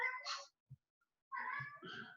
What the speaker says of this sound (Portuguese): Aqui, ó o gato.